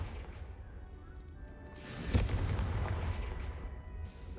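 A fiery blast from the Confringo spell in the game Hogwarts Legacy, a sharp explosive crack followed by a rumbling, crackling burst that lingers for about two seconds before dying away.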